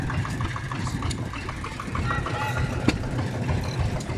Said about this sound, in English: Little yard hand. It's a 2-stroke, but it is a real tractor.